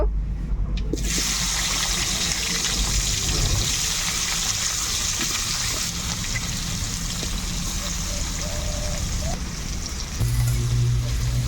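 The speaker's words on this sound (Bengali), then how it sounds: "এবার আমি পেঁয়াজগুলোকেও হালকা করে ভেজে নেব" Onions frying lightly in hot oil in a wok give off a steady, close sizzling hiss that runs unbroken for the whole stretch.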